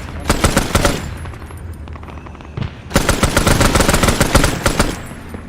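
Machine gun fire in a Vietnam War video game mission: two loud, close, sustained bursts of rapid shots separated by a brief lull.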